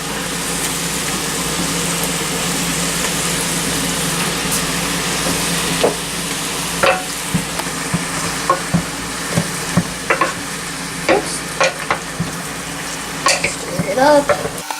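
Ground beef fries with onions, carrots and celery in a pot, giving a loud, steady sizzle punctuated by sharp scrapes and knocks of stirring, with occasional talk in the background.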